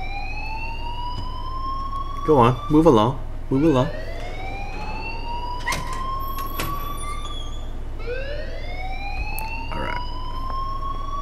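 A school alarm in the Life is Strange video game rings on as a steady, wavering electronic tone with rising sweeps, while several voices talk over it, louder in bursts near the start.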